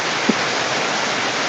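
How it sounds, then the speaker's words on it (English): Steady rain pours down, a dense even hiss that holds at the same level throughout and fills the whole clip with no voices over it. "is that rain? sounds like it."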